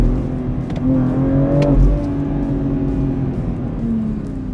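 A BMW X3 M SUV in Sport Plus with manual shifting, its engine and exhaust droning and rising as it accelerates, heard steadily from inside on a quiet road, with a brief louder surge midway and no talk.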